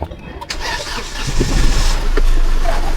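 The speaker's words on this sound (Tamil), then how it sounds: "வண்டி ஸ்டார்ட் ஆயிடுச்சு." A car engine cranks briefly and then catches, settling into a loud, rough idle with a deep rumble that holds steady afterward.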